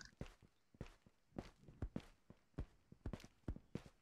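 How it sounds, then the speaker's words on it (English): Footsteps in the video game Ghosts of Tabor thud along in a steady, uneven walking rhythm, soft and fairly close, with no talk over them. "Be careful, I hear footsteps over there."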